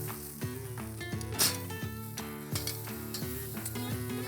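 Smoked wagyu steak laid on a hot grill, giving a steady close sizzle with repeated clanks and scrapes of cooking tools over it, no talking.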